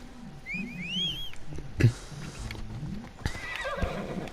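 A horse in the video game Assassin's Creed Odyssey gives a high, wavering whinny, followed by a sharp thump and brief hoof clatter, then a second softer neigh.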